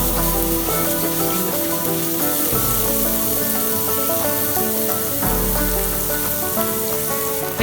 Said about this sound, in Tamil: இப்போ அதே பேனில் நம்ம எடுத்து வச்சுக்க வெங்காயத்தை சேர்த்துட்டு நல்லா வதக்கிக்கலாம்